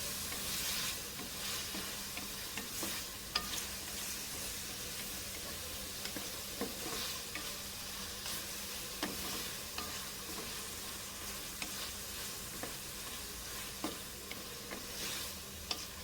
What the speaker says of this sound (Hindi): अब इसको अच्छी तरह हमने 7-8 मिनट तक तकरीबन अच्छी तरह हमने इसको फ्राई करना है